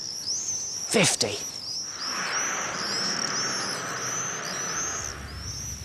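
Swifts scream in repeated high chirping bursts as they speed around houses, calling steadily with a brief louder burst near the start, while a person talks over them.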